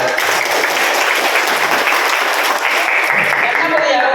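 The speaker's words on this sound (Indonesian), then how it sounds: "Tepuk tangan untuk beliau" Audience applause for Master Rohadi at a motivational hypnosis event in Desa Curug, steady dense clapping filling the room loudly and continuously, with a voice faintly mixed in.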